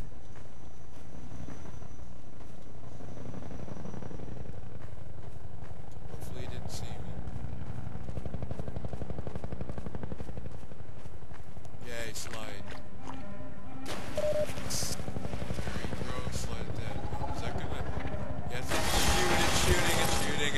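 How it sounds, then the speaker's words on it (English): Helicopter in Half-Life 2 droning continuously with a mechanical rotor whir under a player's voice, mixed with game noises and bursts of loud gunfire building toward the end. "There's a helicopter!"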